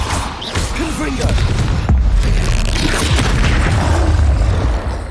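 A Confringo spell explosion in the video game Hogwarts Legacy booms loudly and close, with a heavy low rumble and crashing debris over a dense mix of game sounds.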